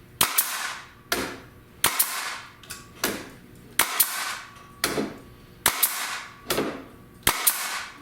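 A nail gun drives nails into wood, firing about ten sharp, loud bangs at an uneven rhythm, each shot followed by a short ringing decay, with no speech.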